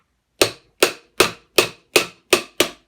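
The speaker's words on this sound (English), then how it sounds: "Maybe I should try a couple of tappy taps." A hammer taps a Brook three-phase motor shaft on a Harrison 11 lathe, seven sharp metallic knocks at an even rhythm, close and clear, each decaying quickly into silence.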